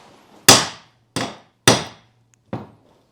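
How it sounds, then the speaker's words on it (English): Four sharp hammer strikes ring out on a Suzuki DR650 motorcycle part during a roadside repair, each a loud metallic hit with a quick decay and uneven gaps between blows. "If you want to make a proper renovation, you need a hammer."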